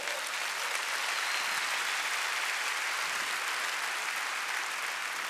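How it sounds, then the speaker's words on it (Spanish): A large church congregation applauds in a dense, even wash of clapping that stays loud and unbroken for several seconds. "Denle un aplauso a Jesús que no pecó."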